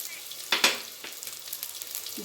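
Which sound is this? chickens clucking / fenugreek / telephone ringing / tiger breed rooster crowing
fenugreek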